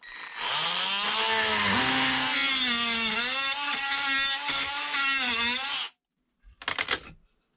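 A power saw cuts through wooden strapping on a ceiling joist in an open ceiling, whining loudly and steadily for about six seconds before cutting off, then giving one brief final burst.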